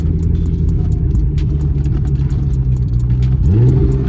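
A 1997 Lotus Esprit V8 twin turbo idles with a loud, deep, steady burble, then revs sharply near the end, the engine note climbing quickly; faint voices are audible in the background.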